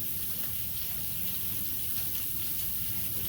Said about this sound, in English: Oh, and here comes the rain again.